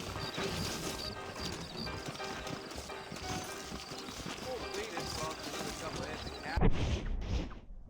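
Horse hooves clip-clop in Red Dead Redemption on PC, steady rhythmic footfalls running under background game ambience, with a louder knock or crash near the end.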